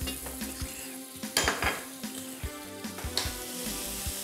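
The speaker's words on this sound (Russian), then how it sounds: "Итак, обжариваем грибы для нашей сырно-грибной начинки." Mushrooms fry in butter for a cheese-and-mushroom filling, a steady close sizzle broken by irregular knocks and scrapes of a utensil stirring in the pan, with no talking.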